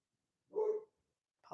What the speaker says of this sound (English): Hold on, my dog's barking.